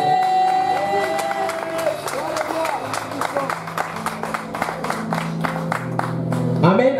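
A church congregation acclaims the Lord with rhythmic clapping and cheering, loud and close, over background music and voices.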